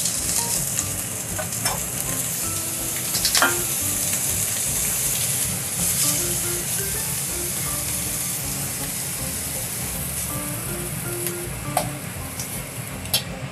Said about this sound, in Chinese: 那首先我们会先将它的煎到有那个香气这样子。